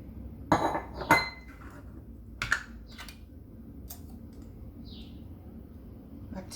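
Whole and blanched almonds drop into a bowl in a few quick, bright clinking scatters, followed by softer scattered taps in a quiet kitchen.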